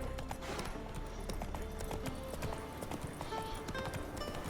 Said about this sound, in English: Now that I've tamed myself a horse.